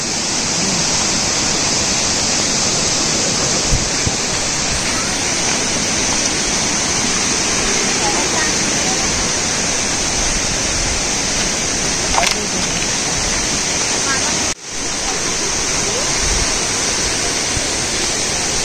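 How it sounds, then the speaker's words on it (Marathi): The constant, heavy roar of a waterfall in the Konkan region fills the whole stretch, loud and close, never letting up. "तर असा हा आपल्या येथील धबधबा होता."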